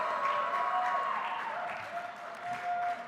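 Conference audience at an education summit applauds and cheers in a hall, a moderately distant, sustained wash of clapping with some whoops.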